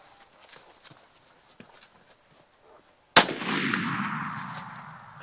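Freehand rifle shot fired at a 500-metre target, one sharp, loud crack after a quiet stretch with faint movement, followed by a long rumbling echo that fades slowly.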